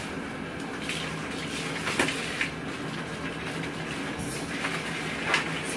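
Water runs steadily from a tap, a constant rushing hiss with occasional clinks and knocks as cloth diapers are hand-rinsed.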